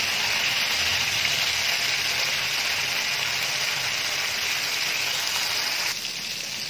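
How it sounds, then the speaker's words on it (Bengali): Potatoes frying in hot oil for an Old Dhaka style biryani, a steady dense sizzle and bubbling held evenly throughout, close and continuous, easing slightly near the end, with no voices. "এই পর্যায়ে তেল গরম হয়ে এসেছে আমি এখানে আলু ভেজে নিচ্ছি"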